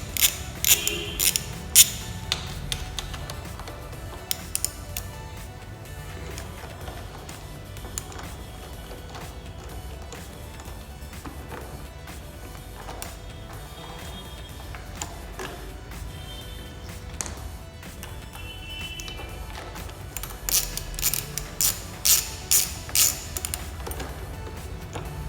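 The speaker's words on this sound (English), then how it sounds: "you have to use a socket of 12 number and you have to remove it like this" A 12 mm socket wrench loosening the front brake caliper bolts on a Yamaha R15 V3, with bursts of quick ratcheting clicks near the start and end and quieter mechanical handling between.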